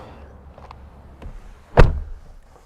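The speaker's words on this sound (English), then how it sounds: "Let's close the door." A car door on a 2022 Toyota Highlander XSE SUV shuts with a single solid thunk close by, heard from inside the cabin against a quiet background.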